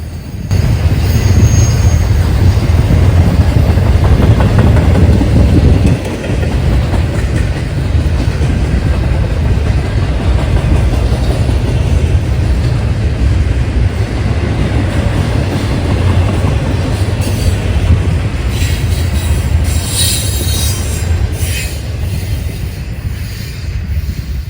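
CSX intermodal freight train with ES44AH locomotive 1871 rolling past in central Ohio, loud continuous rumble and clatter of wagons with high wheel squeal rising near the end.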